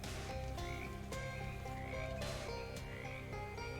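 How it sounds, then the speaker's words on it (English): Many frogs croak together in a dense, continuous chorus inside the video game Shadows Over Loathing, layered with repeated croaks and some game music, loud and close throughout. "Distant frog sounds become less distant frog sounds as you find yourself very close to a lot of frogs."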